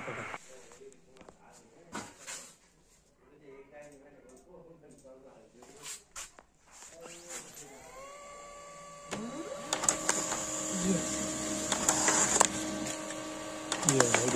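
Pantum P2210 laser printer running during a paper jam repair: scattered clicks and mechanical knocks at first, then a rising motor whine settles into a louder steady mechanical hum with rattles and clicks, while someone talks throughout.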